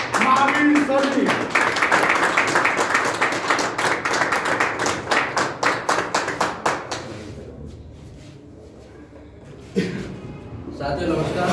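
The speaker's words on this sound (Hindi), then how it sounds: "जोरदार तालियों के साथ स्वागत कीजिए" An audience claps together to welcome a speaker, with brisk applause that keeps going for several seconds, thins into a few scattered claps, and then stops. A voice starts talking afterward.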